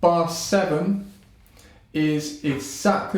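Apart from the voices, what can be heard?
No everyday noise stands out behind the speech.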